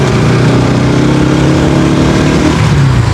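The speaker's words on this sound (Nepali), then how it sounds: "सर्र आउँछ है बाइक" A Pulsar NS200 motorcycle engine on an off-road ride roars loud and close as a steady, throaty drone with slight rises in revs and no voices.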